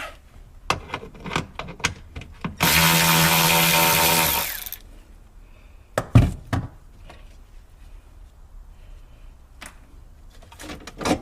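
A power tool whirs loudly for about two seconds while removing a bolt from a Nissan Z's suspension, set among scattered metallic clanks, knocks and tool handling before and after.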